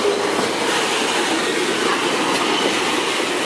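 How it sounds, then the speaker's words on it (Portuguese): A freight train of Bracell wagons hauled by Rumo locomotives rolls past at close range in a port area, a steady loud rumble of wheels and rail noise with faint clickety-clack throughout. "É a primeira vez aí que eu pego os vagões da Bracel com locomotiva da Rumo"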